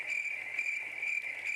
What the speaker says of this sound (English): Here, you get crickets.